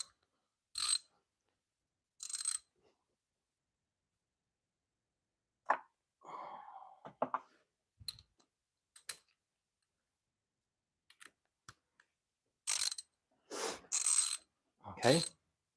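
A ratchet with an extension on a 13 mm socket works a spark plug loose on a 2005 Chrysler 300 with 225k miles, giving scattered short clicking bursts separated by silences.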